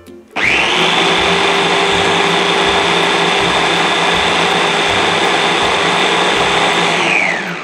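A Maspion MFC 201 AP multifunction chopper runs in blender mode making juice, a loud, steady motor whine that starts abruptly and holds evenly for several seconds before winding down.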